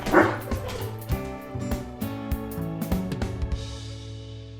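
A dog yips and barks in quick excited bursts close by, with whiny edges between the barks, gradually settling toward the end.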